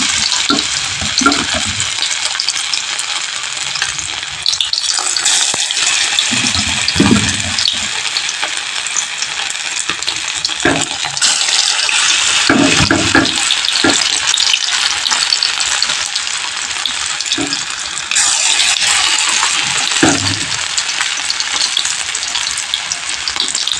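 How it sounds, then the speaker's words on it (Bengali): Soybean fritters (bora) deep-frying in hot oil for a Bengali curry: a loud, continuous sizzle with periodic bursts of clatter and stirring, heard up close with no talking. "শেষ বড়াগুলো তেলের মধ্যে দিয়ে আমি এক এক করে ভেজে নিচ্ছি।"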